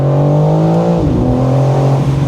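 A loud BMW M4 Competition engine (530 hp, 2025) drones steadily, then shifts pitch as it shifts gear and keeps pulling hard, close up with no voices.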